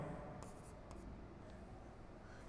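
Pen or chalk writing out an equation during a postgraduate mathematics mechanics lecture, heard as faint, steady scratching strokes with short pauses in a quiet room.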